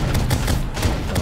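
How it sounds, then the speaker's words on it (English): Rockets firing in Terraria, a dense, loud stream of rapid bursts and booms pounding steadily throughout under a constant game soundtrack, with no talk. "Why do my rockets just shoot out of his mouth?"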